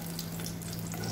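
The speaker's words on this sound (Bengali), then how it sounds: "তেল দিয়ে 1টা তেজপাতা, 2টো ছোট এলাচ আর 1 টুকরো বড় দারচিনিটা দিয়ে দেবো।" Bay leaf, small cardamom pods and a piece of cinnamon sizzle in hot oil in a pan, a short, steady, faint crackling hiss with no voices.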